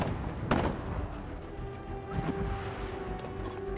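Gunfire in the video game Titanfall: a sharp blast at the start and another later, over a steady rumbling battle bed with a sustained tonal hum, loud and continuous.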